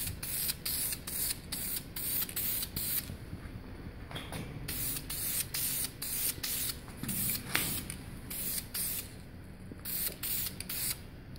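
Repeated short hissing bursts of an aerosol spray can painting a BMW E90 335i brake caliper, rhythmic and close, with brief pauses between each spray.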